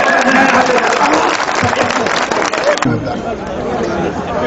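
An audience at a Hindi poetry recital claps and chatters loudly, the applause dense at first and then thinning out as the crowd noise settles.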